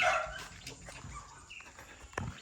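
A tied-up dog gives a few short, fairly faint barks and yips outdoors in China, scattered over quiet background noise.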